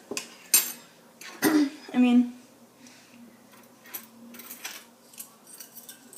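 Measuring spoons picked up and handled for slime making with red food colouring, a few light metallic clinks and clatters scattered among brief speech.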